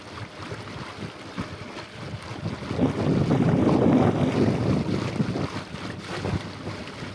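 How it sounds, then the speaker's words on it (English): Wind gusting over open river water while kayaking across, a steady broadband rush that swells louder in the middle and buffets the microphone, with faint wave wash beneath and no talking. "it looks like the wind is starting to pick up some"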